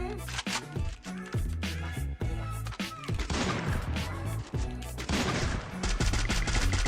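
Dense, rapid gunfire from Free Fire, including an M4A1 rifle, with sharp repeated bursts and overlapping shots filling the whole stretch, close and loud, while a voice talks underneath.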